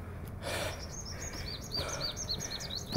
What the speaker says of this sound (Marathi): पक्ष्यांचा किलकिलाट तुम्ही ऐकू शकाल